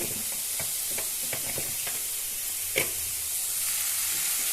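Steady sizzling hiss of ground spice paste frying in a pan, with occasional soft scraping taps of a utensil stirring; no voices.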